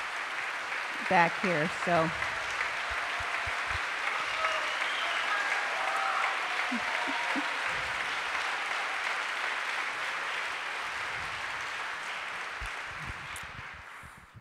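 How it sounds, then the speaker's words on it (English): Raucous audience applause in a synagogue, sustained clapping from a large crowd that slowly fades toward the end, with someone briefly talking near the start. "these are unusually raucous applause for a synagogue"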